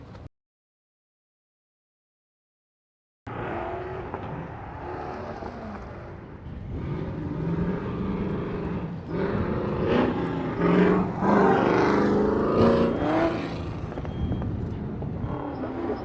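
Cars racing through an autocross course at an LS engine festival, engines revving and accelerating past at moderate distance, growing louder after a brief silence and holding steady with a peak as one passes.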